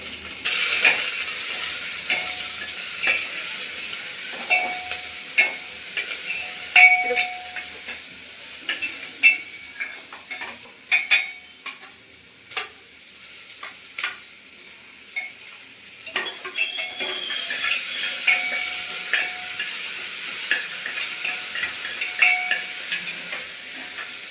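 Onions fry and sizzle in a pan for bisi bele bath, with a spoon or spatula repeatedly scraping and stirring through them. The hiss holds steady and close, broken by irregular clinks against the pan.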